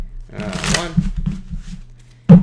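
Riffled tarot cards flutter briefly alongside a nearby voice speaking, followed by a sharp, close snap of the deck at the end.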